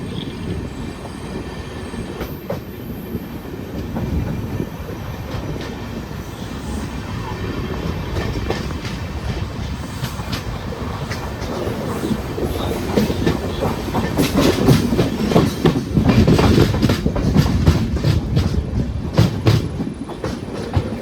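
An intercity express passenger train between Thiruvananthapuram and Thrissur rumbles steadily along the track, wheels clattering and rails squealing faintly, growing louder and denser toward the end.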